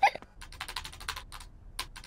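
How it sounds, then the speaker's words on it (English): Quick, fairly even clicking of keys on a computer keyboard in a cartoon home office, sounding close and steady for about two seconds after a brief opening note. "Peppa and George love to watch Mummy work on the computer"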